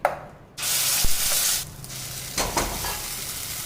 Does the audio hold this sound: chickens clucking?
no